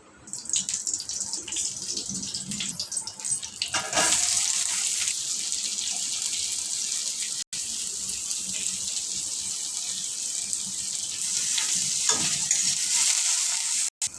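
Oil frying steadily in a pan, a continuous bright hiss that runs almost unbroken for the whole stretch, with occasional scraping as it is stirred and a brief dropout partway through.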